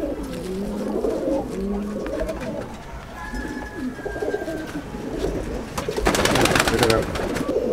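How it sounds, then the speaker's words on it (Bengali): Pigeons at a loft coo in low, rolling murmurs close by, with a flutter of wings near the end. "আর একটা আসাদের নর পায়রা দেখাবো, সেটা এখন খোপে আছে"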